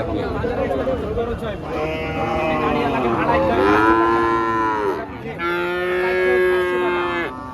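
Young bull calves at a cattle market moo in long, drawn-out calls, one after another, loud and close, while people talk in the background.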